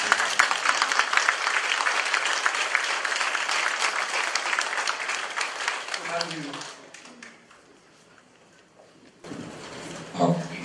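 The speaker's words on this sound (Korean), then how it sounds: "그런 점에서 본해하는 문 대통령에 대해서 박수 한번 드립니다." Applause from a lecture audience at a commemorative event for the 10.4 inter-Korean summit anniversary, a broad burst of clapping that thins after several seconds, then a brief pause before talking resumes over a short renewed patter.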